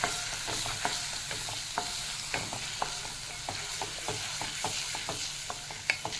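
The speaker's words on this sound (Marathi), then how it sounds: "आणि याच्यामध्ये आता ही आपलं ग्रेव्ही वाटलेली आहे ती घालून घ्यायची आणि आता चांगलं परतून घ्यायचं" Ground masala gravy for egg masala sizzles steadily as it is sautéed in a pan over medium heat, with regular soft scraping of a spoon stirring through it, close and continuous with no talk.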